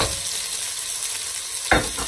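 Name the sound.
onions frying and sizzling in a pan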